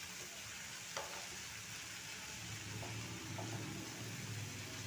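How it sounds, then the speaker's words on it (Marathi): Paneer frying in a pan alongside onion-tomato masala for dhaba-style paneer bhaji: a steady, close sizzle with faint occasional clicks and no voices. "आणि इकडे हे पनीर बघा आता तळते"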